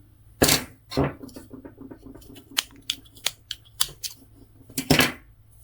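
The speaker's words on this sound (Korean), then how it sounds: "마지막은 이렇게 당겨서 쪽가위로 잘라줄게요." Small thread snips cut yarn at the end of crocheting soft wool earmuffs, giving a few sharp close clicks and snaps with lighter handling taps between them.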